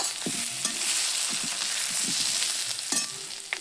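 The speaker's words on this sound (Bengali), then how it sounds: "এবার আলু ভাজছি, একটু রসা রসা করব।" Potatoes fry in a pan with garlic, ginger, cumin and chili while being stirred, a steady sizzle under clattering scrapes and knocks of the spoon against the pan, close and fairly loud.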